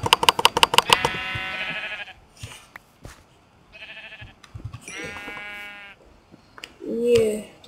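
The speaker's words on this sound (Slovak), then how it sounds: "A už tu vidím ovce, to je dobré znamenie" Sheep bleating in the Minecraft video game, several distinct repeated bleats mixed with clicky game sounds and short bursts of other in-game noise, loud and close.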